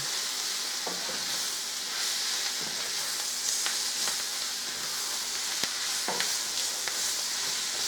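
Cabbage, onions and bacon stir-frying in a pan, a continuous close hiss and sizzle with scattered scraping and stirring ticks, no voices.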